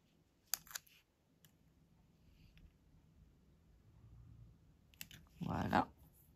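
Scissors snip through wool yarn while making a bookmark: a couple of sharp close clicks early on, then a louder, longer crunching cut near the end, with quiet room noise between and no talking.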